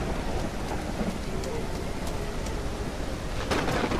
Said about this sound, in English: Whoa, more rain! I guess that's cool in that it affects the environment. Like it actually gave us a storm now.